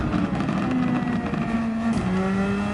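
Superformula race car engine in Gran Turismo at the Nurburgring, a steady droning whine holding a fairly constant pitch at moderate throttle, shifting slightly near the end, loud and continuous with no voices.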